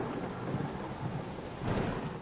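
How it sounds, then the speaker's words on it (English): Thunder rolls through a thunderstorm as a steady, low rumble over rain, swelling slightly near the end, with no voices. "Thunderstorms can be loud. The booms, bangs, and pings can be startling."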